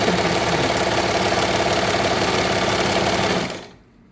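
An Usha Janome Stitch Queen sewing machine runs a fast, steady stitch, its needle chattering in an even mechanical rhythm at close range, then winds down and stops near the end.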